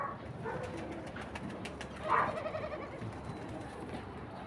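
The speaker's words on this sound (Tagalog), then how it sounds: "Dito malalaking kalapati rito." Pigeons, large ones, coo softly amid outdoor ambience at a villa resort in Sharjah, with a slightly louder burst of bird calls midway and a steady background hiss.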